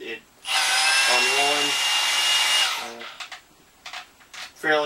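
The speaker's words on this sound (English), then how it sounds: "For a bandsaw, it's really quick." A Milwaukee FUEL cordless bandsaw runs in a loud, steady whine for about two seconds, then winds down, followed by a few short bursts of the motor; a voice speaks briefly between them.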